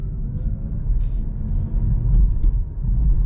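Kia e-Niro 2021 electric car driving at night through quiet Zagreb streets, a steady low road rumble with tyre and cabin hum continuing throughout, no talking.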